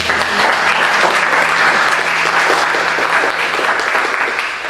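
Applause for a presenting group fills a classroom session: dense, steady clapping from a crowd that carries on for the whole stretch, loud and close, easing slightly at the very end, with no one talking over it.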